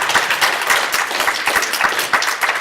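A seated audience at a suburban arts council panel event claps steadily in a sustained round of applause, dense and fairly close, with no talk over it.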